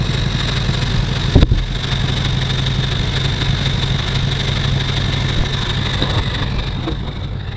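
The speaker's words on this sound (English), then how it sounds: "pretty sure we got a clogged up exhaust." A 1977 Mercury Marquis engine with a clogged exhaust drones loudly and steadily close by, with one sharp knock early on and no voices.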